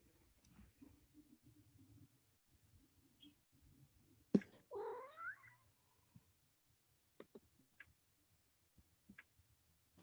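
A cat gives a single clear meow midway through an otherwise quiet indoor scene, with faint ticking and soft background murmur around it.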